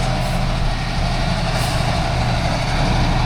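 Heavy trucks working a potato harvest field, a steady loud engine drone and rumble filling the whole stretch with no break and no voices.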